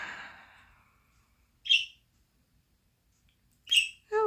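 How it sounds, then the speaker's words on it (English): A pet bird gives a few short, sharp chirps with long silences between them, close by in a quiet room, with a faint fluttering rustle at the start. "I hear chirping and I hear flying."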